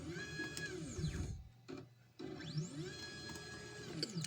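A modded 3018 CNC machine runs its stepper motors in two bursts of rising and falling whine, separated by a short pause, close and fairly quiet.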